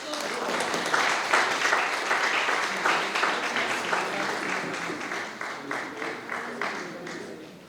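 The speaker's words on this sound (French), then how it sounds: "Applaudissez s'il vous plaît." Audience applauding at the official launch of a Haitian popular business private-sector organization: sustained, dense clapping from a sizable crowd that holds steady, then gradually tapers into scattered claps, with voices murmuring underneath.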